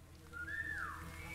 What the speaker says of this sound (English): I whistle.